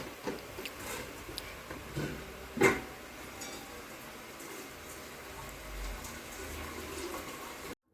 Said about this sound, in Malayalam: അപ്പം നമ്മുടെ കപ്പ ഇവിടെ ആയി. നമ്മളത് ഊറ്റണം.